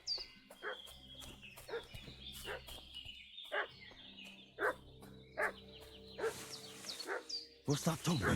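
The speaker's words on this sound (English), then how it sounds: "What's that dog making such a fuss about?" A dog barks repeatedly in Kingdom Come: Deliverance II, sharp separate yelps spaced through the scene with a louder burst near the end, mixed with faint background sounds.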